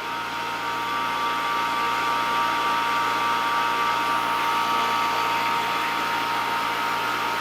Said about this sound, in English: Let's let the pump have another gulp.